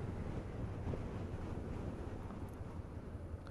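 On a moving motorcycle, a low, rumbling wind buffet roars continuously and fairly quietly across the microphone, with no voices heard.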